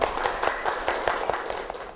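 Workshop participants applaud together indoors, a dense run of hand claps with soft rhythmic peaks, moderately loud and continuous throughout with no talk over it.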